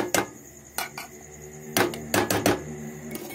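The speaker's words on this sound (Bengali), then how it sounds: "এবার ঘিটা দিয়ে সব জায়গায় এইভাবে নাড়িয়ে নাড়িয়ে দেব, যাতে সুজির সাথে পুরো মিশে যায়।" Metal spoon scraping and knocking against a pan as ghee is stirred into semolina halwa, a string of sharp irregular clinks and taps, fairly close, with no talking.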